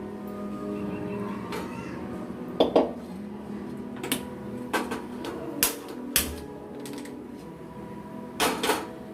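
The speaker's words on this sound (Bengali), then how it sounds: "এরপর আমরা গ্যাসে কড়াই চাপিয়ে দেব।" A metal wok clanks and scrapes onto a gas stove amid a series of sharp metallic knocks and clatters over a low steady hum in a kitchen where country chicken curry is being cooked.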